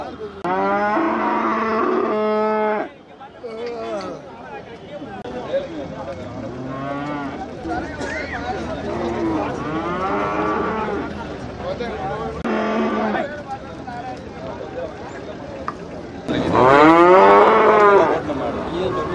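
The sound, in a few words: cattle mooing at a cattle market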